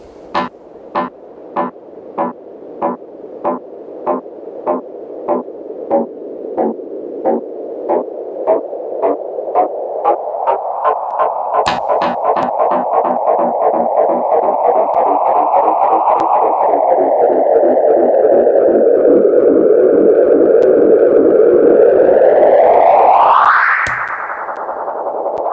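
A tape delay emulation with its feedback turned up high, repeating a sound as a train of echoes that speed up and smear into a dense, rising, self-oscillating drone before it falls away, loud and with no voices.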